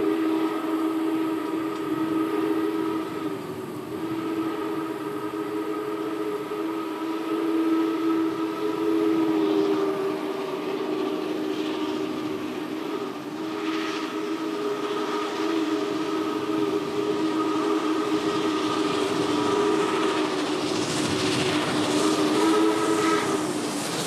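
Union Pacific 844 steam locomotive hauling a special train, with a loud sustained chime whistle held over the steady rumble and rolling clatter of the cars, continuous and close for the whole stretch.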